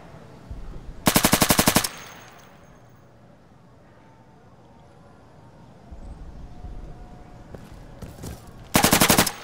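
Bursts of automatic gunfire in a video game as rounds are shot through a wall: two loud rapid volleys, one early and one at the end, with quieter room ambience and faint activity between.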